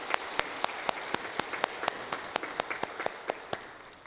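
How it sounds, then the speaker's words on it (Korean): Applause during a Sunday church service, a congregation clapping in a steady, rhythmic unison beat, one sharp clap roughly every quarter second over a softer spread of scattered clapping. "하나님께 영광의 박수 올려드리겠습니다"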